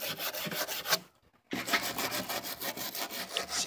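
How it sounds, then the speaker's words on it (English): A brass brush scrubs along a pecky cypress ceiling board in steady back-and-forth rasping strokes, close and fairly loud, with one brief pause midway. "I take a brass brush and I clean it."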